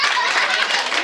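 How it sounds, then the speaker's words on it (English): Short burst of applause from a small family gathering at a grandparents' home after a magician's card trick, dense steady clapping close by for about a second. "Let's give them both a big round of applause."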